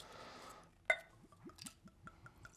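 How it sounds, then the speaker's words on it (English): A cork pulled from a bottle of Writers' Tears Double Oak Irish whiskey gives a sharp, close pop, followed by a few soft squeaks and light glassy clinks in a quiet room. "It's another good cork pop."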